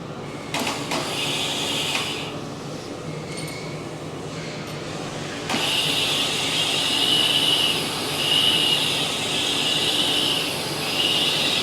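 A grinding machine takes a heavy cut with its grinding stones, giving a steady broadband mechanical whir and hiss that grows louder partway through and holds at a sustained, moderately loud level.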